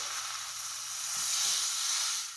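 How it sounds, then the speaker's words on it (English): A pot roast sears in a hot Dutch oven, giving a steady close hissing sizzle that swells briefly louder midway, with a faint low knock as the meat shifts in the pan. "Make sure the sear goes all the way around."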